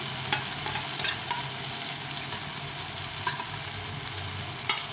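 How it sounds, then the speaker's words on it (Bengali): Ginger and green chili paste fries together with softened tomatoes in a pan, giving a continuous moderate sizzle with a few light spatula scrapes and no speech. "এখন আমি এখানে দেবো এই আদা আর কাঁচা লঙ্কা বাটা পেস্টটা দিয়ে দেবো"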